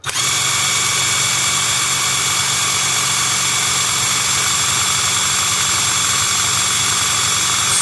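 A DEVETECH CIW cordless impact wrench runs freely at its first speed setting, making a loud, steady high-pitched motor whine with a constant hum that starts abruptly and holds unchanged throughout.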